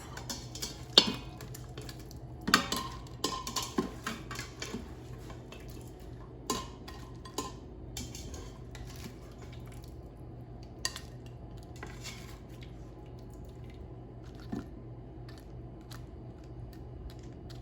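Cooked shrimp, cooked from frozen, are lifted out of an Instant Pot, with close metal utensil scrapes and clinks against the pot scattered irregularly, with quieter stretches between.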